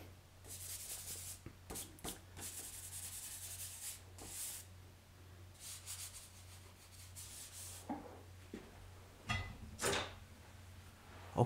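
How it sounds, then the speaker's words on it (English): A needle eraser rubs over graphite on a portrait drawing, making faint, soft scratchy strokes in short bursts separated by pauses. Quiet and close, with no talking. "needle eraser."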